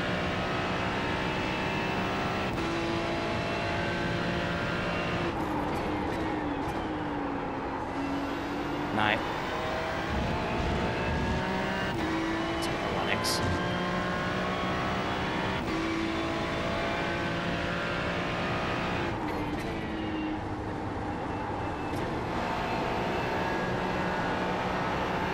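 A Ferrari 296 GT race car engine in iRacing drones steadily at Interlagos, holding a continuous roar with shifting pitch through gear changes while a spotter's voice comes over the radio.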